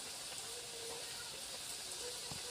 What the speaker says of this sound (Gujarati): જો શક્કરપારા તળાય છે